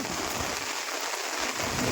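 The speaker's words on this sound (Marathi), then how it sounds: "पाऊस पण डेंजरच आलेला आहे" Heavy rain pours steadily at a tidal creek where prawns are being caught, a dense, even hiss of drops with no pauses and no voices.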